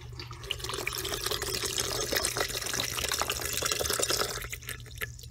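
A full can of coconut water plus a cup of regular water pours into a container, a steady, close splashing flow that runs unbroken for several seconds before easing off near the end.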